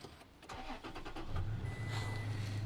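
A 2019 Toyota Tacoma pickup's engine cranks briefly and catches, then settles into a steady idle, heard close up from inside the cab.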